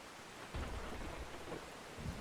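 A thunderstorm in the Outbrk storm-chasing video game, with steady heavy rain and low rumbles of thunder rolling in, soft and muffled at low volume and with no talking.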